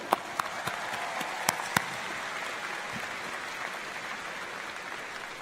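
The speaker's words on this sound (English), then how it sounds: "Let's thank all of them with a big round of applause." Crowd applause at the George Mason University Spring 2022 commencement ceremony, a broad sustained wash of clapping from a large audience, with a few loud nearby claps popping out during the first two seconds.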